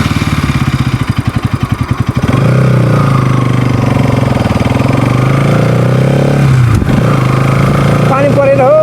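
A motorcycle on a mountain ride from Haleshi to Diktel runs loud and close. Its engine keeps up a steady, rough drone that pulses early on, and a voice talks over it.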